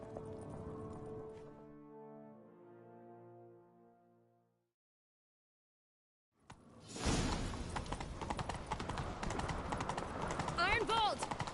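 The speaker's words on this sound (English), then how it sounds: "Grab a horse, we'll chase him down." Horse galloping in The Witcher 3 on PS5: after a tonal opening and a few seconds of silence, loud, dense hoofbeats burst in and keep driving steadily to the end.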